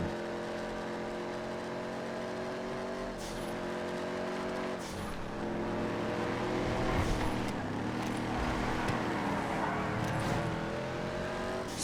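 Muscle car engines roaring in a GTA FiveM race, including a Voodoo, with sustained revving drones that shift pitch as gears change and other cars pass close by, loud and continuous.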